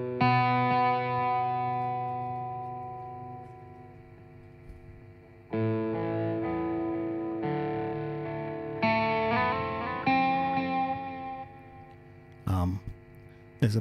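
Electric guitar run through the Guitarix amp simulator with echo effects, heard as sustained chords and notes with swelling, repeating echoes, several separate strummed passages, a brief noisy burst near the end.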